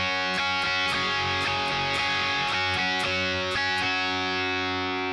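Distorted electric guitar strumming chords of a song, a steady rhythmic pattern of bright strums ringing continuously and loudly with no talking.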